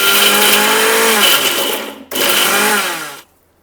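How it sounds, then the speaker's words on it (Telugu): A mixer grinder grinding lentils runs loudly with a high whining motor, stops briefly, then runs again for about a second before cutting off to silence. "ఇది మిక్సీ గ్రైండ్ చేసేసుకొని వచ్చేస్తాం"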